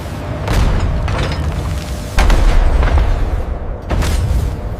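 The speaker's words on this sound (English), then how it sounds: "delivers it to a hydraulic forging hammer, weighing tens of tons. Each strike is a metallic explosion, forcing the billet into the forging die." A hydraulic forging hammer weighing tens of tons strikes a steel billet into a forging die for an artillery shell casing, giving several heavy booming blows at irregular intervals over a constant loud industrial roar.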